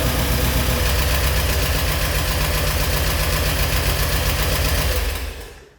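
An abandoned Porsche engine running steadily at idle, loud and close with a rough, rhythmic knock, cutting off at the end.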